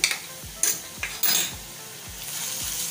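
Onion with ginger garlic paste sautéing in a pan, a soft steady sizzle with several sharp clinks and scrapes of a spoon against the pan, heard close with no talk.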